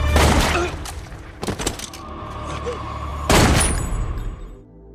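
Gunshots in the film Death Wish: a few sharp, loud bangs spaced across a few seconds, mixed with a rumbling soundtrack and a voice narrating.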